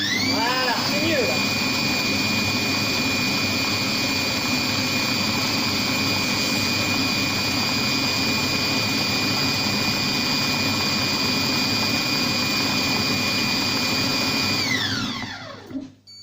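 A Compact Cook Pro kitchen machine blending vegetable soup, a loud, steady high-speed whir holding for about fifteen seconds before winding down abruptly at the end.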